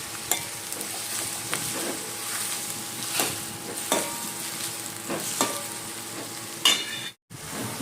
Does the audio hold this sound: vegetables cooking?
yes